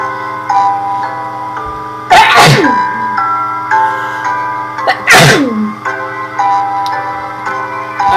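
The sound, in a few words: sneeze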